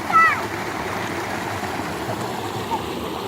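Spring water gushes out of a mountainside in a steady, close stream, with bird chirps near the start and a voice talking over the flow.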